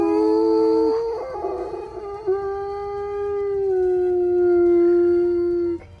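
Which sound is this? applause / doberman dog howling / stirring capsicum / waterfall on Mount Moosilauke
doberman dog howling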